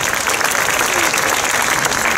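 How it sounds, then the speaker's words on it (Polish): An audience applauds at the opening of a poetry night in a Chojnice library, a loud, dense and sustained wash of many hands clapping close around, with no break. "Wielkie brawa."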